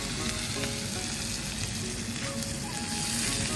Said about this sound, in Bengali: পেঁয়াজটাকে ফ্রাই করে নিয়ে তারপর দিয়ে দেবো এই আদা রসুন